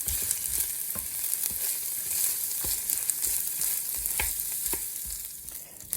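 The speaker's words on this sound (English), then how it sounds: "I'm going to fry this and let it get nice and golden before I add the liquid" Rice frying in a pan before liquid goes in, a close, steady hiss and crackle with occasional stirring scrapes, continuous and alone without talk.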